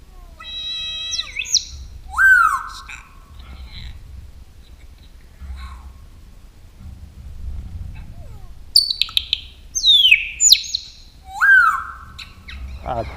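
A parrot gives a series of loud whistles, squawks and sweeping calls with quiet gaps between, echoing through an amphitheater.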